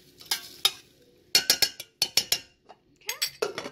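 Rose petals and senna leaves stirred in a pot of water, giving irregular bursts of spoon clinks and scraping against the pot with short pauses between.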